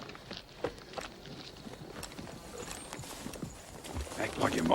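Horses set off in an Old West setting, hooves clip-clopping in a steady walking rhythm at moderate distance, with voices and outdoor movement mixed in and the hoofbeats growing slightly louder toward the end.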